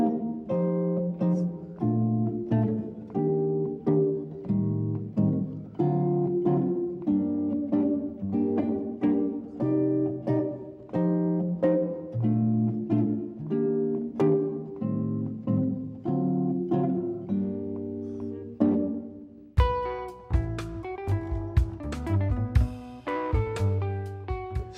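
Jazz guitar strums chords in waltz time, steady three-beat chord strokes ringing with rich harmonics, loud and close with no talking; near the end the voicings shift to brighter, sharper plucked chords.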